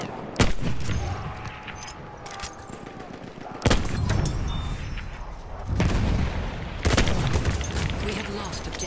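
Enemy machine gun fire in the Battlefield 1 video game, several sharp loud bursts of gunshots spaced through the clip over a dense battlefield din, with voices talking amid the combat.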